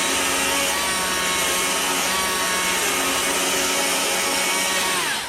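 A chainsaw shaves and scoops wood while carving a wood spirit face on a birdhouse, a loud, steady, buzzing cut running continuously throughout.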